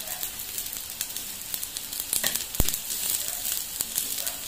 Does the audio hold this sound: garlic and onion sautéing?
yes